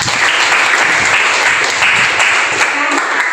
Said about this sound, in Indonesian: Tepuk tangan buat semua kelompok.